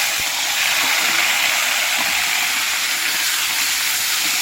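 Fish frying in hot oil in a wok, a loud, dense, continuous hiss and sizzle held close and unbroken for the whole stretch, with no voices.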